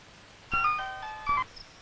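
A mobile phone ringtone plays two short bursts of a bright electronic melody, fairly close and clear, with no talking over it.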